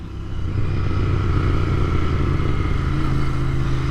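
A Royal Enfield INT 650 motorcycle runs at steady speed, its engine droning loud and continuous with road and wind rumble throughout.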